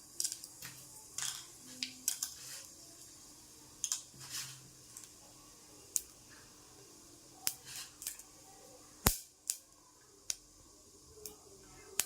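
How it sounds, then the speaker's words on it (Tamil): Mustard seeds splutter in hot sesame oil at the start of a fish curry, popping in sharp, scattered crackles of uneven loudness with quiet gaps between them, close and fairly soft. "எண்ணெய் காஞ்சிருச்சு, கடுகு போட்டுக்கலாம்."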